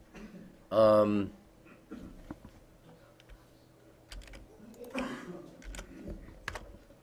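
Typing on a computer keyboard, soft scattered key clicks sounding under a close voice that speaks briefly, with a quiet room background between bursts.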